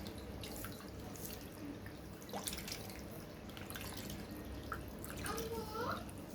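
Small puti fish being washed with salt under a running tap, water splashing and dripping steadily into a sink at low volume, with faint voices in the background.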